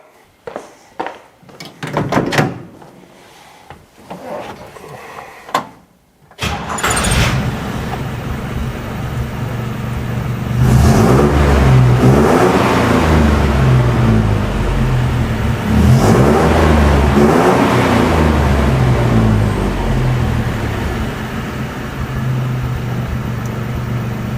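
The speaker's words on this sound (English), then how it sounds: "the carburetor is rebuilt and the Jeepster is back to running like a champ" A Jeepster engine runs on a freshly rebuilt carburetor, starting after a few clunks and clicks and then idling loudly and steadily, with the revs rising and falling in waves.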